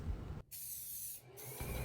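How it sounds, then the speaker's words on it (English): A can of semi-gloss white spray paint hisses in two sustained bursts separated by a brief pause, close and steady, used to paint doll bunk beds. "I feel like I've used a lot of spray paint on my projects lately"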